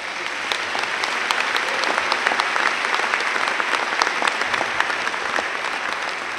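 A large audience at a law school graduation ceremony applauds steadily, a dense, even roar of many hands clapping that holds for several seconds with no voices over it.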